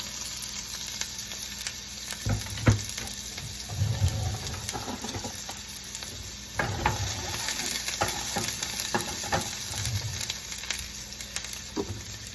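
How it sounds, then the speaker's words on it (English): Onions fry in extra virgin olive oil in a pan, giving a steady close sizzle with occasional stirring and utensil scrapes. "let's start, of course, with extra virgin olive oil. And the onions."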